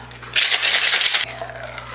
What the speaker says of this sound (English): I'm gonna shake this up.